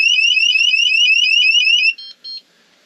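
A loud camper van alarm siren warbles rapidly in repeated rising sweeps for about two seconds, then cuts off with a couple of short trailing beeps.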